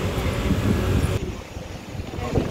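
Gusty wind buffets the microphone with a low, rumbling roar that eases briefly midway before picking up again.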